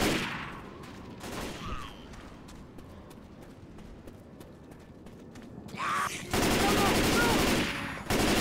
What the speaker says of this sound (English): This assault rifle should help.